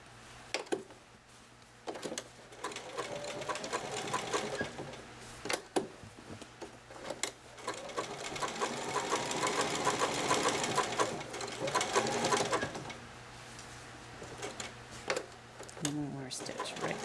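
A sewing machine stitching a small quilt, bursts of rapid mechanical needle chatter up close, stopping and starting between runs, with a person talking in the pauses.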